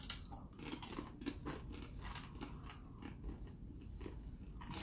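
Repeated crunching and chewing of freeze-dried fruit snacks from Thailand, close and steady, with brief bites at an irregular rhythm and no talk.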